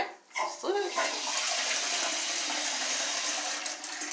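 A short, light flush through a toilet flush valve opened only slightly, with a steady rush of running water that starts after a brief click and continues evenly, fairly close.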